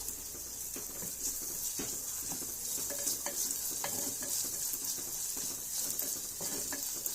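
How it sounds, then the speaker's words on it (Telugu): Chicken curry ingredients frying in a clay pot, a steady broadband sizzle with scattered stirring scrapes and clicks running evenly throughout, close and moderately loud, with no talking. "ఇది కూడా పచ్చివాసన పోయేలాగా వేయించుకోవాలి"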